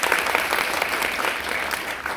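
An audience at a musical talk event with performers claps loudly, a thick steady applause that fills the room evenly from start to finish.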